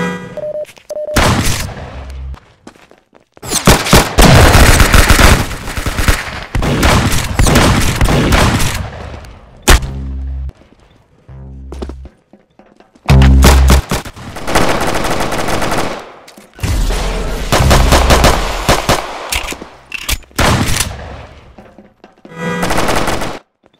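Rapid game gunfire from Roblox Arsenal comes in loud, dense automatic bursts separated by brief pauses, with a few heavier booms mixed in and no talking.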